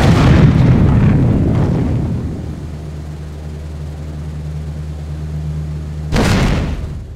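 Bombing explosions in a B-17 video game: a big booming blast that rolls and fades over a couple of seconds, then a steady low aircraft engine drone, and a second sharp loud explosion near the end.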